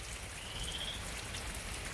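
Steady rain falls in east central Oklahoma, a dense, even patter of drops on surfaces with no voices, constant and moderately close throughout.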